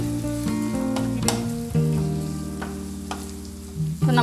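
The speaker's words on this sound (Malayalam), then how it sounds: "ഇനി നമുക്കിത് നന്നായിട്ട് വഴറ്റിയെടുക്കാം" Onion and tomato with pepper powder sautéing in a pan for a fish dish, a close steady sizzle with a spatula scraping and clinking against the pan and a sustained tonal hum underneath.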